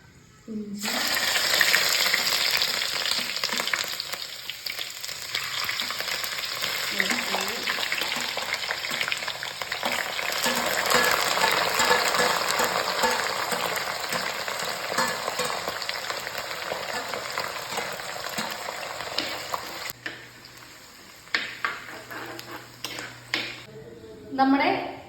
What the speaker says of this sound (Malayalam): നമ്മുടെ ഉലുവ പൊട്ടി.